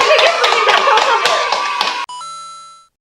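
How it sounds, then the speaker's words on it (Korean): A small group claps hands for a couple of seconds in a Gwangyang citizens' chat show, close and fairly loud, then the clapping stops and a bright electronic chime sound effect rings out and fades. "자, 박수 한번 합시다."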